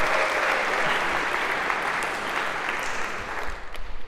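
A lecture-hall audience at a computer science class applauds a volunteer coming up on stage, steady dense clapping filling the room at moderate level and tapering slightly toward the end.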